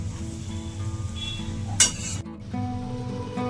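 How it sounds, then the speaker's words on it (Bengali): Shredded cabbage with a spoonful of sugar stirred in a hot pan for Bengali badhakopi ghonto, a low steady sizzle with soft scraping strokes and one sharp clink of spoon against metal. "ভালোভাবে চিনির সাথে বাঁধাকপিগুলোকে মিক্স করে নেব।"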